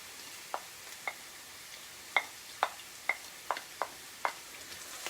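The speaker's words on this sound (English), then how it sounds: "you want to let those sort of spices just roast up a bit in the clarified butter and your onion" Cumin and fennel seeds fry in clarified butter with onion, giving sparse, faint crackles and pops over a soft hiss, heard alone without talk.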